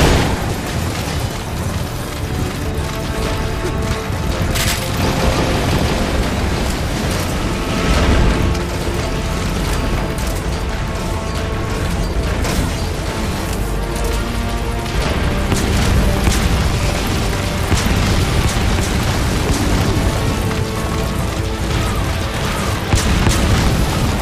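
Repeated booming explosions from spikes bursting during the Sahelanthropus boss fight in Metal Gear Solid, loud and dense throughout with heavy rumbling blasts and mechanical clatter layered together.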